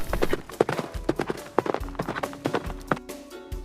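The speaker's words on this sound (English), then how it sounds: "horse." Horse hooves clip-clop on a farm in a quick, irregular run of sharp knocks, fairly close and clear, with no talking over them.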